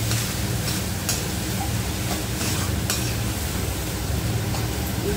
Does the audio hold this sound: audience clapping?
no